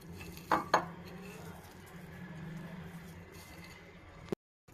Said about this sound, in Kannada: ಬೆಳ್ಳುಳ್ಳಿ ಮ್ಯಾಶ್ ಮಾಡ್ಕೋಬೇಕು